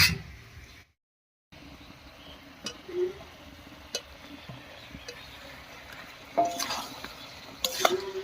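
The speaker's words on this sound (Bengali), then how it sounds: "বেগুন আর মিষ্টি কুমড়ো দিয়েও খুব ভালো করে কষিয়ে নিয়েছি" Fried eggplant and pumpkin with spice masala are stirred in a pan, giving a faint low sizzle with occasional sharp spatula scrapes and clinks, a brief silent gap near the start, no talking.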